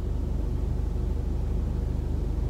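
Car crawling in parking lot traffic: a continuous low engine drone and road rumble, even and moderately loud from start to end, with no speech over it.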